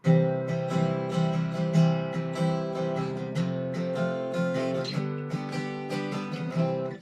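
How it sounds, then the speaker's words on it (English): Acoustic guitar strummed in a steady down-down-up-down-up pattern, chords ringing clearly and close, with no voices. "this is commonly referred to as the down, down, up, down, up strum"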